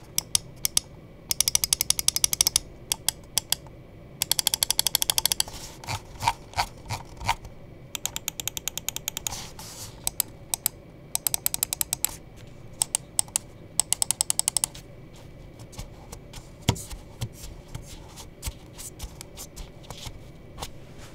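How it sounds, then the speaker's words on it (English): Lamzu x Fnatic Thorn gaming mouse gives off bursts of rapid, crisp clicks, close up and fairly quiet, with short pauses between rolls and some scattered single clicks. "let's just go ahead and jump in and drop the sound test for the click and the build quality."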